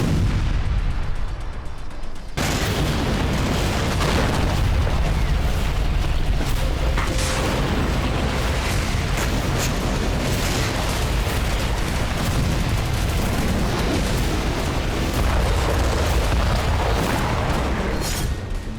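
Heavy artillery and explosion booms from fighting between Hezbollah and Israeli forces on the Lebanon border, loud and continuous, with repeated deep blasts and crackling gunfire-like bursts throughout and no talk.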